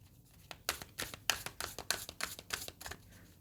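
Tarot-style cards being shuffled by hand during a reading, a quick run of crisp riffling flicks and slaps that stay close and clear from start to finish with no talking.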